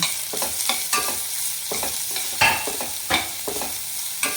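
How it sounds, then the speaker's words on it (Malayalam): Big onions frying in a pan for an anchovy curry, a soft steady sizzle broken by repeated spatula scrapes and stirring taps at an uneven pace. "വലിയ ഉള്ളി നന്നായിട്ടൊന്ന് ഫ്രൈ ആയി വരണം കേട്ടോ."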